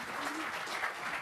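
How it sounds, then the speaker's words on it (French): An audience applauds entrepreneurs after a talk, a dense burst of clapping from many hands that holds steady and fairly close for the whole moment. "je vous propose de les applaudir très chaleureusement"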